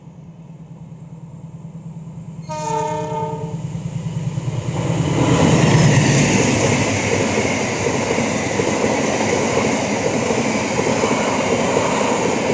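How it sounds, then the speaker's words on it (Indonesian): The Argo Wilis passenger train from Surabaya Gubeng to Bandung rumbles past close by between Jenar and Kutoarjo stations, a horn sounding briefly before the loud, steady roar of passing cars builds and continues. "Ini adalah kereta api Argo Wilis KA5 dari Surabaya Gubeng menuju Bandung."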